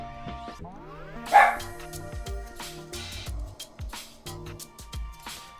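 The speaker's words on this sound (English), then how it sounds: "That's my dog." A pet dog barks a few times in a room, with short yips over game music and sound effects.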